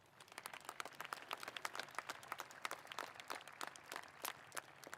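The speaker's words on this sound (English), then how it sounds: "Let's give them a round of applause." Applause rises for the graduating class of 2021 at a high school graduation ceremony, fairly faint and distant, with many individual claps rattling unevenly through a large crowd.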